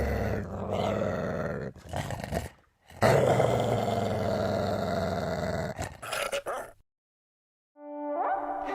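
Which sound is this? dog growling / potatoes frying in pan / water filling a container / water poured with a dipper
dog growling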